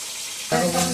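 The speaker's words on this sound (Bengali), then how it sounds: "মাছটা ভাজা হোক ততক্ষণ তোমরা দেখতে থাকো।" Silver carp frying in hot oil in a home kitchen, a bright sizzle that swells up halfway through, with a brief voice-like tone mixed in.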